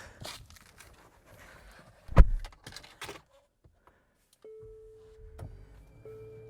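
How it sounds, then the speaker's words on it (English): Motors in a 2026 Infiniti QX60 Autograph move the steering wheel and seat to a memory position after the car starts, giving soft, steady electric whirs that follow some clicks and a brief thump. "Start the car, steering wheel moves, seat moves, everything to your memory position."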